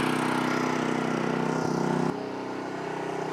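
Small engine idling steadily from the muffler side, a low, even, pulsing hum that drops slightly in pitch and loudness partway through, close and fairly quiet.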